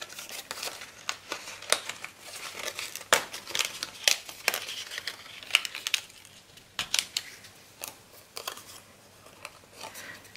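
Paper pieces for a handmade scrapbook card cut out at close range, with irregular crisp snips and rustling, crinkling paper handled between the cuts.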